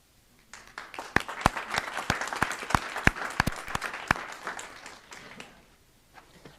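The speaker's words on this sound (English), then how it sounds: "One more round of applause for all of our student athletes and student participants." Applause at a school board meeting for student athletes and student participants. A crowd claps with sharp individual claps standing out, rising quickly, holding for several seconds and fading out near the end.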